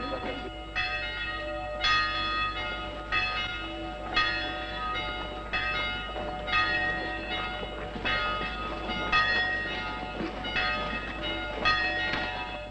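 Church bells in a small town ring out to call the townspeople to the town hall, repeated tolling strikes over a steady low hum, moderately loud and continuous.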